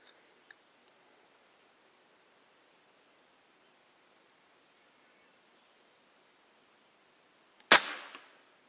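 A single sharp crack from a Crosman 2240 carbine air pistol fired at pop cans outdoors, heard close and alone near the end after a long quiet stretch.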